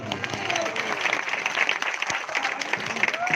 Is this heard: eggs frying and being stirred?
no